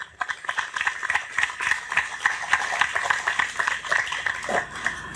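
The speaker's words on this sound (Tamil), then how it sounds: "அவருக்கு ஒரு பலத்த கரகோஷம் கொடுக்கணும் எல்லாரும்" A farm-training audience gives a hearty round of clapping for a coconut grower, dense irregular hand claps spread through the whole span at moderate loudness.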